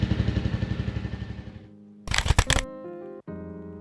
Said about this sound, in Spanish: El sonido del escape es grave y cálido, marca de la casa Royal Enfield.